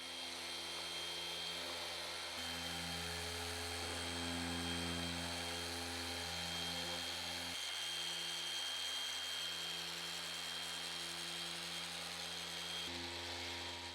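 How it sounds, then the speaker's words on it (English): A Flex PXE80 polisher working car paint on a BMW M2 runs as a steady, loud electric whine with a constant hum throughout, its pitch dropping and rising slightly as the load changes. "The PXE80 from Flex is the perfect machine for smaller and difficult parts."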